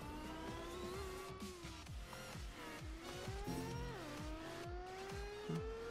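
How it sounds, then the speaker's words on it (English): A car races around a circuit in a video game, its engine holding a steady, high revving tone with pitch shifts through gear changes, with tire squeal and skidding throughout and no voice over it. "This car is so trash for circuit racing."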